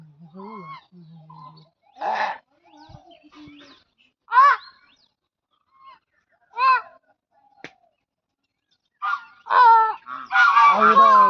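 Geese honking near water as they drink, repeated loud harsh honks in bursts with gaps of quiet, building to a dense run of calls at the end, with a person's voice briefly heard at the start.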